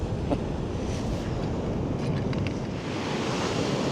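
Sea waves wash continuously over a Dorset beach, a steady loud broadband surf with gusty wind buffeting the microphone throughout and no voices.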